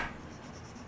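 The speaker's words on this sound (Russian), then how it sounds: "Почему вот я сейчас взял этот карандаш и затемнил этот купол, да?" Pencil shading a dome in an urban sketch on paper, a continuous close scratchy rubbing of graphite across the sheet, soft and steady, with no voices.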